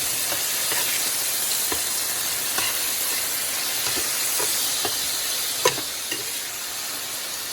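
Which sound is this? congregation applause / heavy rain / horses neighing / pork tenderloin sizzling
pork tenderloin sizzling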